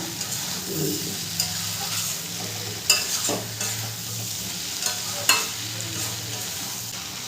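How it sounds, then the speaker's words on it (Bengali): Young jackfruit stir-frying with cashew paste for a Bengali curry, a steady close sizzle broken by occasional scrapes and knocks of a spoon against the pan. "কাজু বাদাম বাটাটার সাথেও খুব ভালো করে আমি কষিয়ে নেব ইঁচড়টা"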